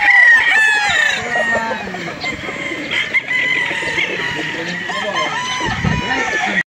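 Brood stag roosters crow and cluck on a chicken farm: several birds call together in a dense, steady chorus of crowing and clucking, close and loud, with faint talk mixed in.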